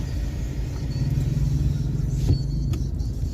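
Road traffic at a diversion road crossing: a continuous low rumble of passing vehicles and engines, fairly close and steady, with a brief louder surge near the middle.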